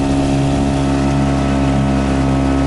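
Boat outboard motor straining against river rapids on a taiga river, a steady loud droning engine hum held under heavy load, close and constant throughout.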